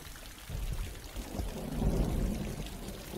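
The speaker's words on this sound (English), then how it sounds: "It's flowing through the underground pipe." Collected rainwater runs through an underground pipe toward a storage tank, giving a continuous rushing, pouring flow that swells slightly in the middle and stays close and fairly loud throughout.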